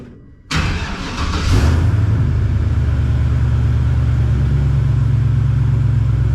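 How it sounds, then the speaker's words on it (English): An LS-swapped V8 engine cranks over and fires into a steady, loud idle, with a rough rumble settling into a constant drone after the start. "we'll start it and make sure my oil pressure comes up and I don't have any leaks."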